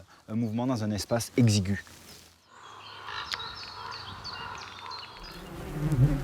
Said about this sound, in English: It has installed beehives with bees producing honey, especially for the bears